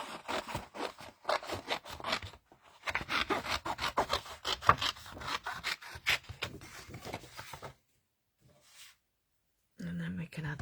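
Scissors snip through stamped paper images during art journaling, a run of close, crisp cutting and rustling strokes, broken by short pauses and a silent stretch near the end.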